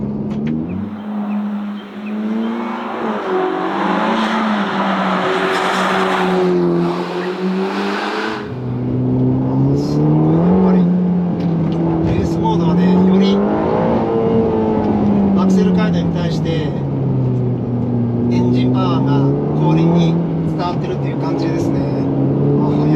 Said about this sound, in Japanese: じゃあ今度スポーツモードからレースモードに変えて少し走ってみたいと思います。